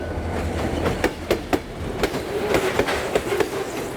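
A train pulls into Hogye station, a century-old stop on a Korean rail line. Its wheels give rhythmic clickety-clack beats over a steady rolling rumble, loud and close, with no talking.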